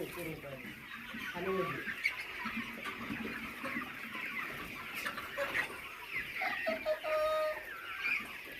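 Hens cluck and murmur continuously in a poultry farm compound holding about 1800 birds, a busy flock close and moderately loud, with a voice speaking briefly among them.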